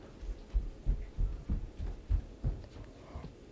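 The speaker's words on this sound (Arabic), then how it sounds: "اصل انا بنتي لسه مشغلة الغسالة، ودي ده صوت اللي هو المنشفة" A domestic washing machine running its spin cycle, heard as a steady series of low, soft thumps roughly every third of a second over a faint hum, from a nearby room with no talking.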